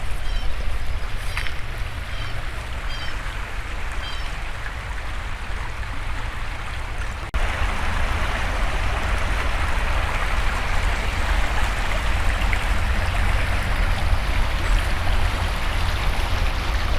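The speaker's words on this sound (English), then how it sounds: "And here is the creek." A creek runs through boggy, wet woodland with skunk cabbage, giving a steady, fairly loud broadband rush of flowing water throughout, with a slight shift in level partway through and no talking.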